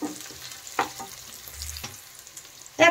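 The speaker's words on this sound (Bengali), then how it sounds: "পেঁয়াজগুলো এখন হালকা ভেজে নেব।" Chopped onions fry lightly in a pan with a soft, close sizzle, broken by a few scraping stirs and no voices.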